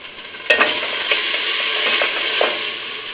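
Coarsely diced chicken fries in a pot for soup, a steady loud sizzle with a few clicks and scrapes of stirring, with no talking.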